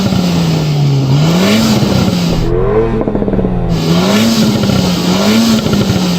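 A yellow mid-engined sports car revs repeatedly, its engine note rising and falling in several swells, with a deep, steady drone underneath, loud and close throughout.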